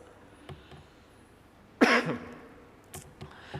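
A single sharp cough bursts out during a church sermon, preceded and followed by a few faint clicks and small throat sounds in an otherwise quiet room.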